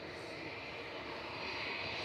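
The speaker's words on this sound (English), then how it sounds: "It's a nice sunset arrival of Qatar." A Qatar Airways airliner arriving at Manchester Airport at sunset, its engines giving a steady, broad roar that swells slightly toward the end, heard alone with no talk.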